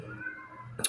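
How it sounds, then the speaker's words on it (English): A pet cat meows once near the end, a short bright call rising above a low steady room hum; the cat is indoors, trying to get into a room. "if you hear my cat in the background, please ignore him. He's just trying to get in."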